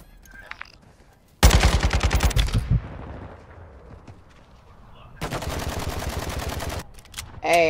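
Automatic gunfire in Call of Duty comes in two loud, rapid bursts of evenly spaced shots, with quieter gaps, faint clicks and a brief swoosh between and after them.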